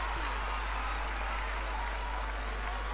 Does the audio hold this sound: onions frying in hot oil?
no